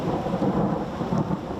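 Heavy rain pours steadily outside schools during a downpour, a dense continuous wash of drops with rumbling low undertones, loud and close, no voices.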